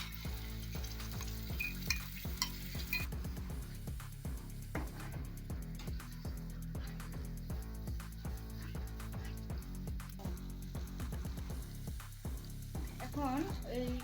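Spices frying in hot oil for a chicken roast and pulao, sizzling steadily with repeated scraping strokes of a stirring spoon against the pan throughout, while a voice talks over it.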